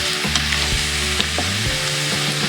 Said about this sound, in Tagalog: So halo ng halo muna hanggang magiging golden brown siya.